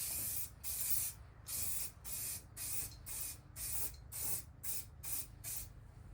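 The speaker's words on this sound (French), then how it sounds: "Peindre à la bombe, ça doit faire partie des choses les plus simples, je pense." Spray paint can hissing onto a car body during bodywork repair on an Audi A5, in about nine short bursts with brief pauses between them, close up and steady.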